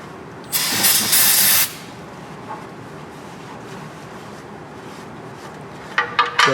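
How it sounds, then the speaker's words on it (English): A burst of carburetor cleaner sprayed onto the oil filter mating surface of a Saturn S-Series engine, one loud hiss lasting about a second, followed by faint clicks near the end. "grab some carburetor spray and clean off that mating surface real well"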